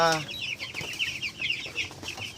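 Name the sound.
chicks (broiler chickens) peeping and clucking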